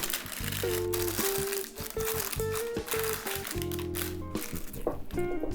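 Parchment paper crinkles and rustles steadily as it is stuffed into a pan for no-bake cranberry almond granola bars, a close, continuous crackle with a tonal background.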